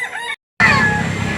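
Bulik chickens at a poultry market in Lipa City, Batangas, with a loud, close rooster crow that rises in strength after a brief silence, under market background noise.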